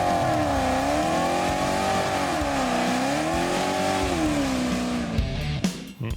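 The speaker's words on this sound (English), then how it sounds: "With a big 671 blower sitting on on it. a 427. Nothing sounds better than a blower when it's whining." A 1952 Chevrolet with a supercharged 427 engine and a 671 blower, its engine holding a loud steady drone with a whining tone that swells and dips gently before easing off near the end.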